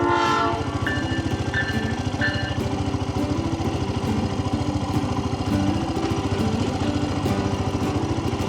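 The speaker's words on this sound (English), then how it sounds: "Alright, here comes one of the trains again." A train rolls past close by with a steady rhythmic rumble and clatter, and its horn sounds in a few short blasts near the start.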